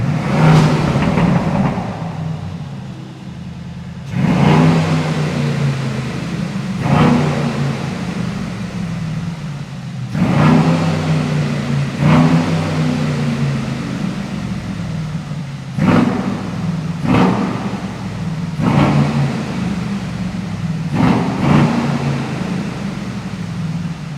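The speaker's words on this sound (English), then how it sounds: "it's time to start up the GLS900 Superblack from the outside" Brabus GLS900 Superblack with its 4.5 liter 900 horsepower engine and additional Brabus exhaust, heard from outside starting, then blipped through a series of sharp, loud revs that fall back to a deep, steady idle rumble.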